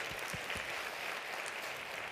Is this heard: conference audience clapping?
yes